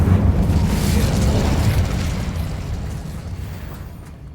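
Spell-casting fire blast in a wizard video game, a loud, rumbling roar that swells at the start and slowly fades over several seconds, no voices over it.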